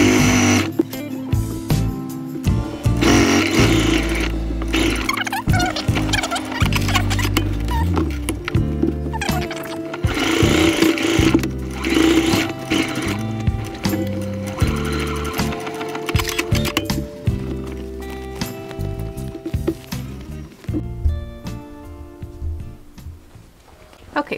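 A sewing machine stitches the back and front fabric pieces of a memory bear together, running in steady rapid bursts close up with brief pauses and dense mechanical chatter throughout.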